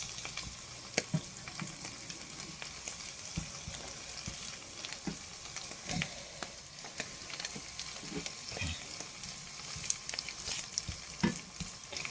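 Grass-fed beef stir-frying in a pan for an Asian stir fry, with a steady dense sizzle throughout and scattered crackles and pops from the oil, close and fairly quiet with no talking.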